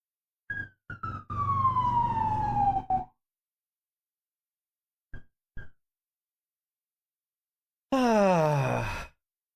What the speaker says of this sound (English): Go away, fire truck and or ambulance, please.